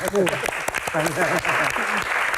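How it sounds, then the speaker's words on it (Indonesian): An audience at a concert Q&A applauds loudly for a couple of seconds, with a voice speaking over the clapping. "Tepuk tangan."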